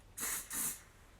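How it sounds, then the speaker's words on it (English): Spray foundation in shade Lace hisses onto a kabuki brush in two short, close bursts with a brief pause between them, followed by a tiny click at the end. "I'm just going to spray the Kabuki brush"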